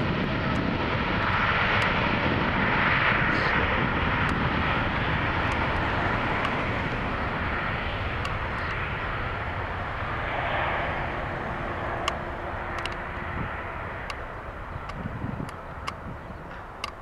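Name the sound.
Hainan Airlines Boeing 787-8 Dreamliner jet engines spooling up for takeoff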